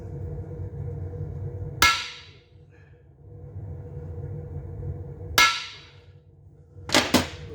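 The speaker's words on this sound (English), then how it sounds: "we're just trying to move it by peening it" Three sharp metallic hammer strikes peening metal on a 1957 Corvette 283 engine, the last two in quick succession, ringing over a low steady hum from a shop setting.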